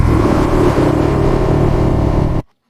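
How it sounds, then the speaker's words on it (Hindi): A lion's roar rings out in an animated Hindi children's story about a wolf, a loud, deep, continuous rumbling roar lasting over two seconds and ending in a sudden cut to silence. "भेड़िया को एक और दहाड़ सुनाई देती है।"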